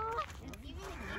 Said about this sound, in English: gonna get attacked by the geese